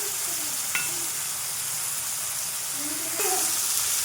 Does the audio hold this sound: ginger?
yes